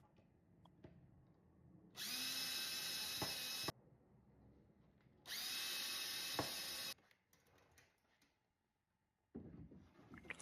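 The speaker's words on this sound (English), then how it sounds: "pre-drilled the holes, and finally screwed everything in place." Cordless drill driving screws to fit drawer pulls onto a fluted thrifted nightstand: two close, steady whirring bursts of about two seconds each, separated by quiet handling, followed by soft clicks and a short rustle.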